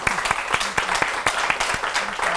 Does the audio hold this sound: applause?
yes